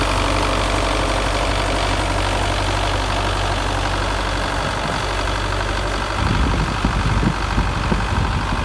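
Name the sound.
Belarus 510 tractor engine idling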